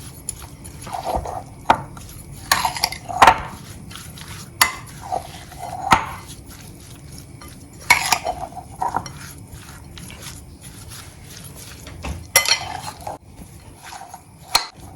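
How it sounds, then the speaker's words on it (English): Pork stir-fry with salt and soy sauce stirred in a pan, giving repeated close metallic scrapes and clinks of the utensil against the pan in an uneven rhythm over a faint sizzle. "Go ahead and stir everything in."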